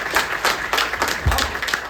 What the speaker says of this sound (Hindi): तालियां बजाइए जरा।